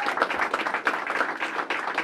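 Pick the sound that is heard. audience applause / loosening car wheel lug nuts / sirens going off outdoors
audience applause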